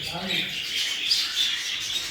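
Budgerigars chirp and twitter in a busy, steady chorus, fairly close, over a constant hissy background, at a budgerigar breeding house.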